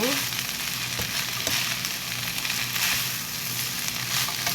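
Seaweed stems stir-frying in perilla oil in a pan, a dense continuous sizzle with scraping stir strokes, close and loud with no talking.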